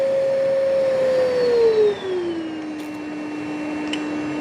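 Bissell Little Green Mini 4015 cordless cleaner running steadily as its suction motor is turned down from maximum, its whine dropping in pitch about halfway through and settling into a lower, quieter hum, close and alone.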